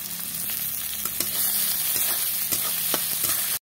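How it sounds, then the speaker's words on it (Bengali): Tomato with onion and garlic sizzling in hot oil in a pan, a steady close broadband frying hiss with a few stirring scrapes and clicks throughout, ending abruptly. "টমেটোটা দিয়ে দিচ্ছি।"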